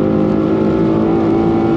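A car engine roars steadily under load on a wet Nürburgring, revving hard and accelerating, loud and close throughout with a constant droning tone.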